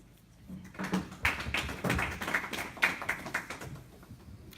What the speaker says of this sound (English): So please welcome them both with a round of applause.